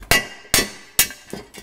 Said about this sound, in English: I think this one will just hammer out.